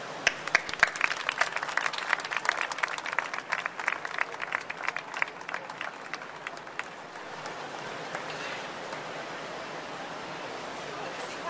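An audience at the Downtown Denver Partnership Awards gives a round of applause for the award winners, with dense, lively clapping that thins after several seconds into a softer, diffuse hum of the room.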